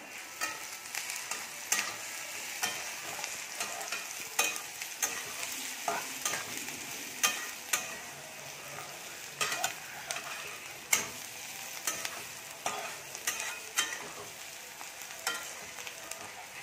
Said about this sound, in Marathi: कांदा पण चांगला लालसर होईपर्यंत भाजून घेणार आहोत।